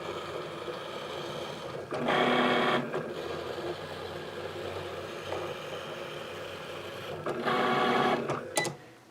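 A cutting machine cuts out a stencil strip for an Easter sign, its carriage whirring and buzzing in two louder bursts over a steady motor hum, close by with no voices.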